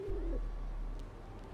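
A bird coos softly in the Haunted Hotel: Eternity video game, a short low warbling call near the start over a steady low hum of game ambience, with a faint click toward the end.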